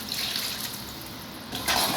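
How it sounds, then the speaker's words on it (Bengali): A small splash of water is poured into a pan of frying drumsticks and potatoes for an alur dal, a brief steady rushing pour that stops quickly. "দিব সামান্য একটু পানি কষানোর জন্য।"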